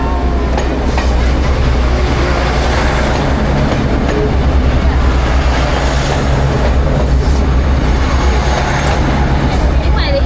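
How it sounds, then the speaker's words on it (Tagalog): A train rolls past on the north coast of Taiwan, a loud steady rumble with rail clatter filling the whole stretch while people talk nearby. "The train is coming down."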